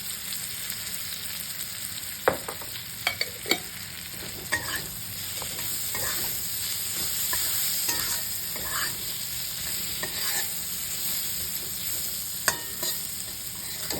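Potato peels fry in little oil in a pan with onion, green chilli and poppy seeds, a steady close sizzle punctuated by scattered stirring scrapes and clicks of a spatula.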